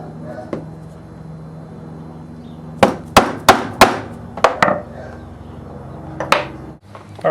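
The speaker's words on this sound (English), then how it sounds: "punching a couple small holes in the end of the strap that I just skived" Sharp close-up hammer blows on a punch drive small holes through the end of a skived leather holster strap for a 1911, a cluster of about five quick strikes followed by a couple of later taps.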